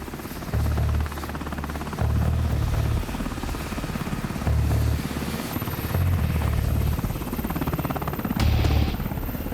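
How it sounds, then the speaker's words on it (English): Black Hawk military helicopters approaching in flight, a steady loud rotor thump with pulsing low-frequency beats and engine whine, growing and fading in waves over continuous turbine noise. "the approaching helicopters aren't heard by the kidnappers"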